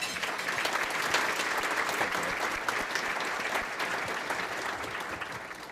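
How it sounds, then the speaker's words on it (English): Audience applause fills a community luncheon hall, dense, steady clapping from many hands sustained evenly throughout. "Let's give them all a round of applause."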